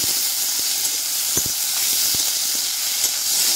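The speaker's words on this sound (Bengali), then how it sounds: "এবার আমি দিয়ে দিচ্ছি পেঁয়াজ কুচি" Chopped onion added to a simmering prawn malai curry, a loud, steady sizzling hiss that runs throughout with faint light crackles.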